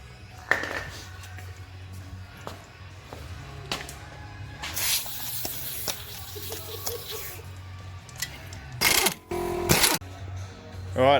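A few short hissing bursts of penetrant spray onto seized axle nuts under a Mazda Premacy in a garage, with metallic clinks and clatter between them and two louder sprays near the end.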